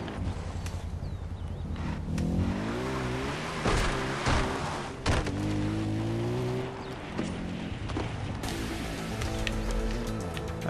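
Car driven roughly through open terrain in Far Cry 4, its engine droning steadily with shifting pitch, occasional thumps and bumps, and loud continuous road noise throughout.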